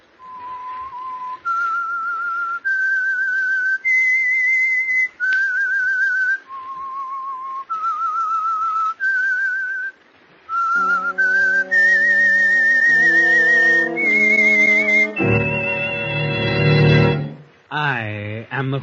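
A clear whistled melody of sustained stepwise notes, the theme signal of the radio drama The Whistler, joined midway by a low orchestral chord and ending with a louder brassy swell.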